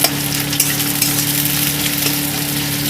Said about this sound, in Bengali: পেঁয়াজগুলো ভালো করে লাল করে ভেজে নেব।